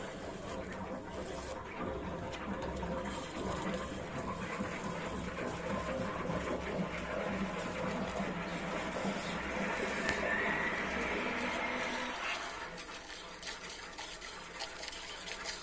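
Water rushes through a domestic electric water heater just after its valve is opened, a steady, fairly loud hiss and gurgle for about twelve seconds before the flow drops to a quieter trickle.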